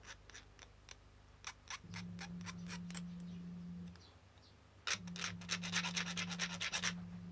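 Repeated short rasping strokes of a file along the sharp metal edges of a custom-built guitar part, close and dry, coming in uneven bursts with a steady low hum running underneath at times.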